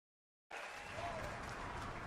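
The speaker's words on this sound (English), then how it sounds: "this one I hear the clapping going on" An audience claps at the Summer Game Fest broadcast, a dense wash of applause bursting in suddenly after half a second of silence and holding steady to the end, heard faintly and somewhat distant.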